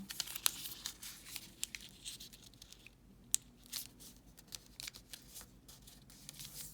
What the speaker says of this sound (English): We're gonna take this corner and fold it up to the middle.